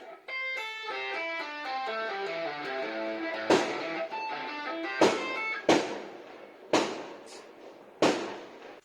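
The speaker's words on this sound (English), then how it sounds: "that was some jerk firing off fireworks" Fireworks go off outside as sharp, booming bangs, roughly five of them at uneven intervals, cutting across electric guitar notes played close by.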